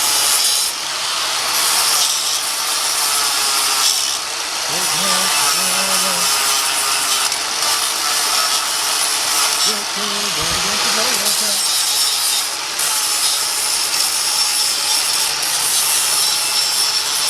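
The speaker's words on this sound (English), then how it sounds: "we can just grind her until she falls off" An abrasive grinder wears down a metal hose fitting on a gas tank, a loud continuous harsh grinding with wavering pitch throughout, close and dominant, with a brief speaking voice partly buried beneath it.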